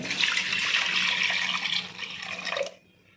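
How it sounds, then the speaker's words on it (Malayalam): Water is poured into half of a nutmeg chicken marinade in a home kitchen, a steady close splashing stream that runs for a few seconds and then stops abruptly. "വെള്ളം ഒഴിക്കുകയാണ്"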